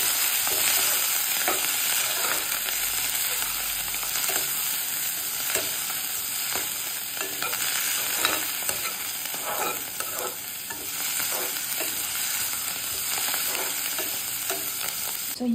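Garlic and coriander fry in hot oil, a steady dense sizzle filling the whole stretch, with a utensil stirring and scraping through it now and then, close and loud, no talking.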